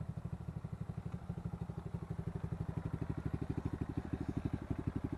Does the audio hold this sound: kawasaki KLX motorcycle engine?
yes